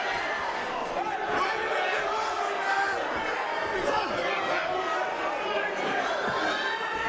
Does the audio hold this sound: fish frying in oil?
no